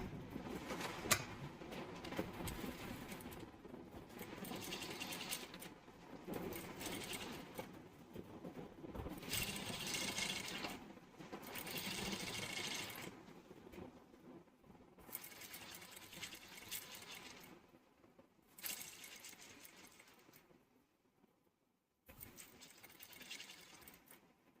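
A sewing machine stitches a cross piece of fabric in several quiet, whirring bursts separated by short pauses, with faint handling noises in between and no talking.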